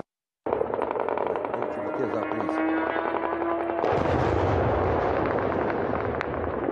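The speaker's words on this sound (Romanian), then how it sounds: "Explozii puternice au avut loc pe celălalt mal al Dunării" Loud, continuous rumbling blasts and crackling bursts of explosions across the Danube, dense and harsh, with a sharper surge partway through; no voices.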